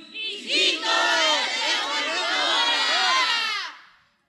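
A church congregation shouts loudly together in a sustained, roaring group yell of many voices, close and full, rising quickly and holding for about three seconds before cutting off.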